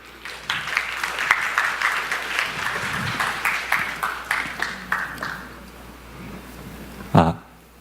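Audience at a Korean developer conference on cloud and serverless game development applauds to welcome a presenter, a sustained round of clapping that swells then fades out, ending with a loud thump.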